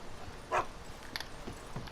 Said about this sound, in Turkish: Selam köpek